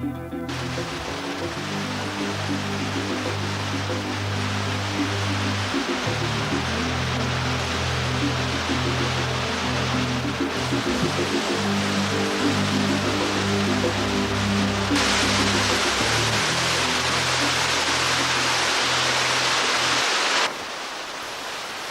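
Underground cave waterfall in the northern passage of a cave system roars loud and continuous, a dense broadband rush of falling water with no voices.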